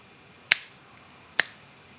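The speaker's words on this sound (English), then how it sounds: "I'm going to snap my fingers" Two crisp, isolated finger snaps about a second apart, close to the mic in a quiet garage with a faint steady hum beneath.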